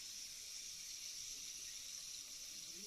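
Paneer pieces frying in hot oil in a kadai for golapi dom paneer, giving a quiet, continuous, even hiss of sizzling with no other sounds.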